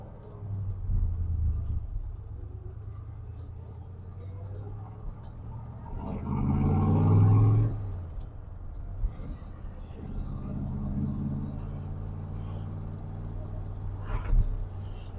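A 1966 Chevrolet Corvette coupe with a 327 cubic inch 300 hp V8 pulls out into the sunlight, its low engine rumble idling close by, then swelling to a brief louder rev midway before settling back to a steady idle.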